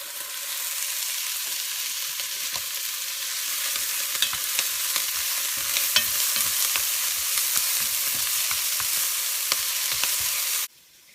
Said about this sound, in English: now we need to stir the onion